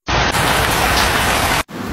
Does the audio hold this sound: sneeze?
no